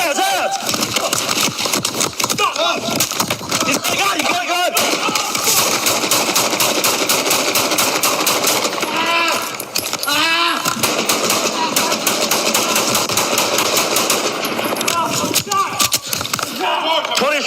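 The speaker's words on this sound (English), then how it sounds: "Shots fired, officer down." Gunfire erupts during a police shooting incident, a loud dense barrage of rapid shots layered with shouting and chaotic voices throughout.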